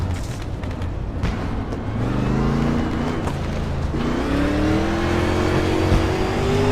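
A race car engine in a VR racing video game climbs steadily in pitch, a loud buzzing whine under continuous road and track noise, with rising revs and shifts.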